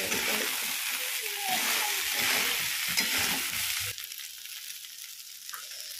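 Sago (sabudana) khichdi is stirred and roasted in a pan. It gives a steady, close sizzling and scraping that eases off and goes quieter toward the end.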